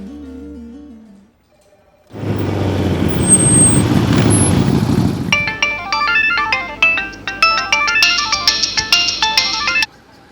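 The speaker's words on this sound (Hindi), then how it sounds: "फोन नहीं उठा रही" A phone ringtone plays a repeating electronic melody, loud and close, after a burst of engine-like rumble, with no one answering.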